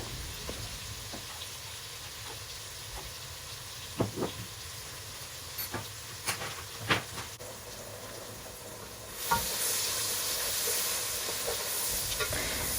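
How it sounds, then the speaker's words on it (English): Seeds and ground cumin frying in oil for chicken pilau, a low steady sizzle with several sharp spoon knocks and scrapes against the pan, then a louder, fuller hiss toward the end; no one talks. "Some ground cumin, and I'm gonna stir that up and let that fry for a bit."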